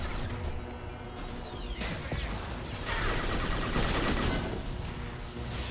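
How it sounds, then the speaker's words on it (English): Rockets and gunfire from a heavy enemy in Mass Effect 2, a dense barrage of shots and explosive crashes with whooshing streaks, loud and continuous with no voices. "Those rockets are coming very close to my face."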